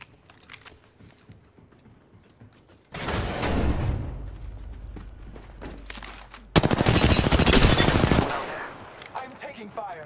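Automatic gunfire in Call of Duty comes as two loud, sustained bursts of rapid shots separated by a short gap, with quieter game sounds around them.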